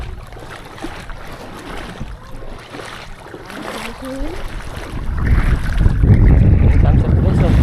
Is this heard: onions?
no